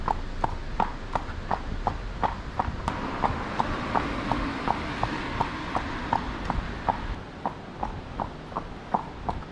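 Horse hooves clip-clop at a steady walking pace, a long run of sharp evenly spaced hoofbeats on a hard surface, close and clear over low outdoor background noise.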